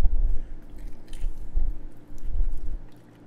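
Someone bites into and chews air-fried spicy BBQ glazed chicken wings close to the mic, with three bursts of moist, slightly crunchy chewing separated by short pauses.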